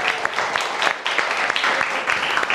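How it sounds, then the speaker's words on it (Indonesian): A TV talk-show studio audience claps steadily nearby, a dense burst of many hands clapping together for a couple of seconds, with no speech over it. "boleh tepuk tangannya suara perempuan"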